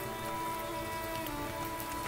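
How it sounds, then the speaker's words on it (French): Steady rain falling in the Pyrenees mountains during a motorcycle trip, a dense, continuous hiss of drops on surfaces, constant and fairly close, with no voices. "On est sous la pluie."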